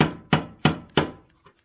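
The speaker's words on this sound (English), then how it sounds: "Tap this locking ring here." A hammer taps the fuel line locking ring on an antique truck, three sharp, evenly spaced metallic knocks close by, then a faint fourth tap as they fade.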